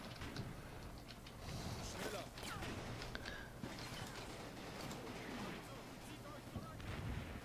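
Battle sounds from the World War II video game Combat Mission: Battle for Normandy, a steady wash of gunfire and distant artillery with sharp cracks scattered throughout, dense and continuous, mixed under faint background noise.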